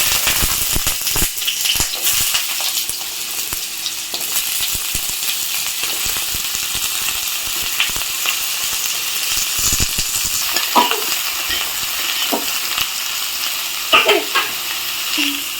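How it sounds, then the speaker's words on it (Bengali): Chopped bottle gourd sizzles steadily in hot mustard oil in a pan for a sour gourd dish, a dense, loud crackling hiss throughout with scattered pops and a few clicks from a utensil, and no voices. "এই যে তেল গরম হয়ে গেছে লাউগুলো ছেড়ে দেবে"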